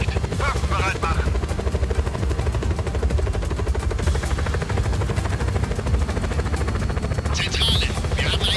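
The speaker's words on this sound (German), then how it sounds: "Feind ist in einem Helikopter." Helicopter flying in Just Cause 4, a continuous loud rotor drone filling the whole stretch, with bursts of gunfire and game voices mixed in.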